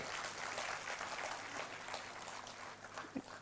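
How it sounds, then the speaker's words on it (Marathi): An audience at a centenary celebration event applauds with soft, steady, distant clapping that carries on throughout without any talk over it. "त्यांच्यासाठी खरंच सर्वात प्रथम आपण जोरदार टाळ्या वाजवूया"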